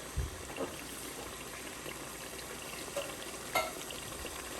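Water poured into a pot of simmering Ghanaian tomato beef stew, giving a steady, fairly faint hiss and sizzle with a few soft knocks from the pot.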